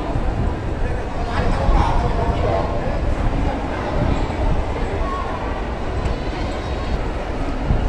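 Busy train station hall ambience in Fuzhou, China: a steady crowd murmur with distant rumbling and echoing activity, voices blending into a constant background.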